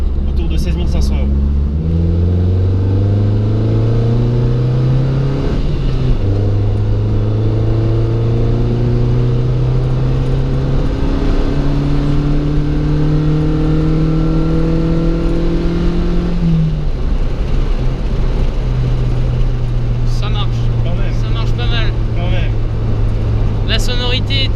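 MPM PS160 car engine revving on a test drive, a loud continuous drone rising and falling in pitch through several gear changes, heard from inside the cabin with wind noise.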